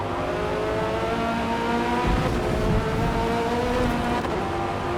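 Race cars in the video game Forza Motorsport, including Audis, run at speed around a track; engines hold a loud, sustained whine with shifting pitch and gear changes, one car close with others around it, and no voices.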